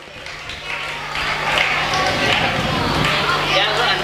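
Applause from the congregation rises and holds at Parshvanath Digambar Jain temple during the Paryushan festival, a broad, even wash of clapping that swells after a quieter start.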